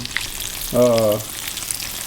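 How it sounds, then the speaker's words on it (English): Vegetables (green tomatoes, zucchini and yellow squash) sizzle steadily in hot oil at close range, with a short tonal hum rising briefly over the frying. "So actually frying up some vegetables"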